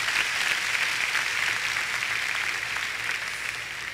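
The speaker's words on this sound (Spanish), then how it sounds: "Y aplaudí bien fuerte en esta tarde al Señor porque te lo va a dar." A church congregation applauds during a Spanish-language worship service, sustained loud clapping filling the whole stretch with no speech over it.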